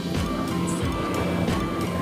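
Steady road traffic rumbles through a quake-damaged town in Tuburan, northern Cebu, a continuous close mix of car and truck engine noise with no clear speech over it.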